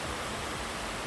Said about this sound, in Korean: 빗소리 들리시나요?